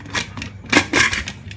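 A pressure cooker lid, being fitted over lamb shanks, gives a few short bright clicks and clatters as it locks into place, close and fairly loud, with no talking.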